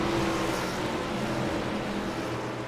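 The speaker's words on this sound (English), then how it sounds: "Pace car ready to take a left out pit lane" In the iRacing video game at Las Vegas, a steady engine drone from a pace car and field rolling out of pit lane, fairly loud and continuous with a low rumble and no talking.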